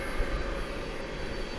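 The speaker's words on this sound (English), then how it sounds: "Here it comes. Once again, it's an Embraer 175" An Embraer 175 airliner arrives at DFW Airport at night after turning back from a flight to Gainesville, Florida, a faint, steady distant engine rumble and hiss with no talk.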